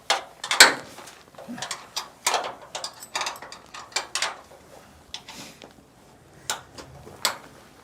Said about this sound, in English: So we'll start by loosening the screws that hold the diagonal support.